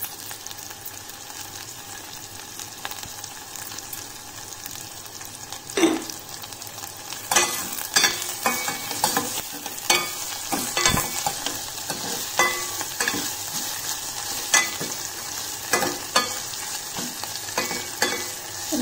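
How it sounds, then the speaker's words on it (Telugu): Sliced onions with a pinch of salt fry in a pan for a sweet potato curry, a constant close sizzle broken by repeated sharp scrapes and clatters of a spoon stirring, no voices. "బ్రౌన్ కలర్ వచ్చేదాకా వేయించుకొని"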